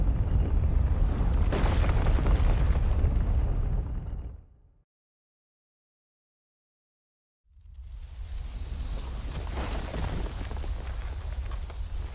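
A temple collapsing in the game Candle: The Power of the Flame, a loud rumbling roar of crashing stone that cuts to full silence for about three seconds, then surges back as a dense, steady rumble.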